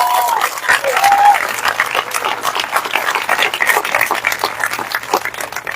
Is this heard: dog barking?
no